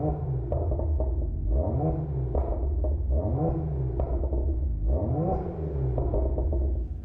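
A BMW 1M Coupe with its N54 engine and exhaust drones loudly while driving, rising through several rev sweeps that drop back between gear changes. The deep rumble is heard from inside the cabin with no talk.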